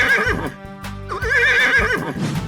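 Loud, near neighing from a horse character in a 3D animal video game: a shrill, quavering whinny that breaks briefly, then rises again.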